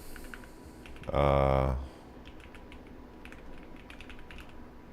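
Computer keyboard typing for a TypeRacer speed-typing race comes as a rapid, dense burst of close key clicks lasting under a second, followed by quiet room noise; a voice speaks briefly.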